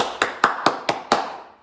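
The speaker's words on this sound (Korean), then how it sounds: "박수하겠습니다" Five sharp, evenly spaced hand claps from a children's church worship group, crisp and fairly close, ringing out one after another and then fading into a short reverberant tail.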